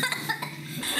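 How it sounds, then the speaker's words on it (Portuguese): A child gives a few quick coughs indoors at a family gathering, brief and moderately close. "Criança tossindo"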